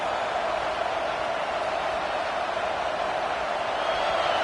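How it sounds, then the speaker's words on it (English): A football stadium crowd at a UT vs Michigan game, a steady, dense roar of many voices that holds evenly throughout with no distinct breaks. "This crowd going to try to make life miserable for these guys."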